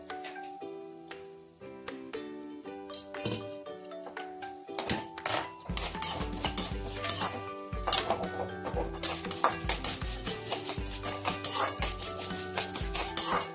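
Triphala, cloves and nagkeshar fry together in oil in a pan, a steady hiss and crackle building loudly after a quieter start, with metallic clinks of stirring running throughout.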